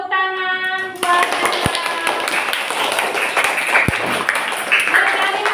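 A classroom of students claps for a classmate named Bella, a dense burst of hand clapping following a short tonal sound, with a couple of sharp taps and a voice under the applause.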